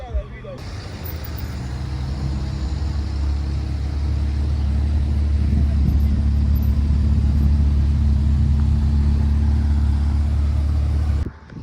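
A blue Ferrari 812 GTS drives past on a street in Deauville, a steady low engine rumble holding loud for about eleven seconds before cutting off, with voices nearby.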